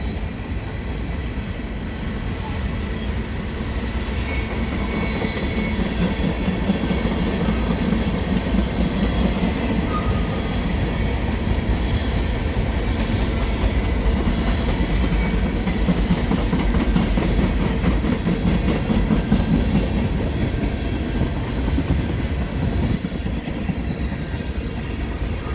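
CN freight train of potash hopper cars rolling slowly through Dorval, a loud steady rumble of wheels with faint clickety-clack and squeal as the cars pass close by, continuous throughout.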